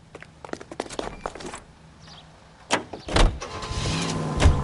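In the L.A. Noire video game, a car door shuts with a few clunks, then the engine starts and revs as the car pulls away, growing louder and closer at the end.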